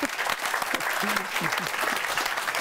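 An audience at a Dutch talk show celebrating 40 years of De Klomp claps briskly, with scattered shouts and voices over the dense clapping throughout.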